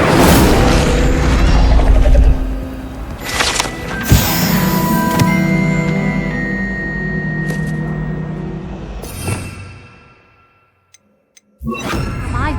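Incendio fire spell in Hogwarts Legacy: a dense, loud roaring whoosh of magical flame with booming bursts and mechanical rattles, fading into near silence before a sharp new burst at the end.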